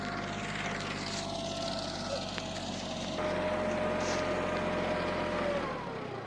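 A steady tractor engine drones continuously with a low hum and a sustained whine, close and unbroken throughout, working in a hazelnut orchard.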